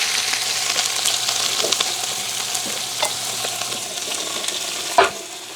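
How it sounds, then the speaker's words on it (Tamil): Onions fry in hot, well-heated oil with whole spices for tomato biryani, making a loud, continuous close sizzle. Occasional stirring scrapes sound through it, and a sharper knock comes near the end. "எண்ணெய் வந்து நல்லா கொதிச்சிட்டு இப்போ நாங்கள் அதோட வந்து வெங்காயமும் போடுவோம்"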